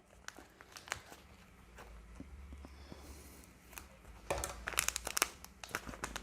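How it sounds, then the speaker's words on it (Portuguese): Plastic piping bag being cut and handled while decorating cakes, giving soft crinkling and snipping sounds that build toward a denser burst of rustling near the end, close and alone without talk. "vou cortar um pouquinho mais a minha manga"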